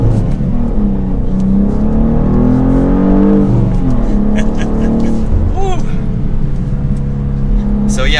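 A 2023 BMW M2 engine rises in pitch under acceleration, drops at a gear change and pulls again, heard from inside the car under a continuous low rumble while people talk.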